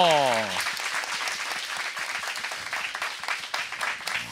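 A talk-show studio audience applauds after a wedding blessing. Brief speech opens it, then dense clapping swells and carries on steadily to the end.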